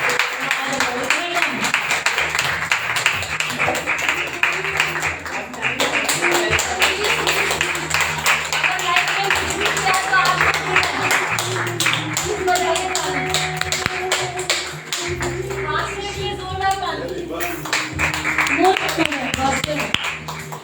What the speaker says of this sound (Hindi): जोरदार तालियां बजाइए जीसस के लिए, बहुत जोरदार